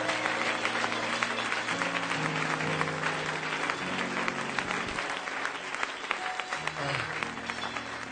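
A church congregation applauding and cheering in worship, a dense continuous roar of clapping held steady throughout, with voices calling out and a sung or spoken voice running underneath.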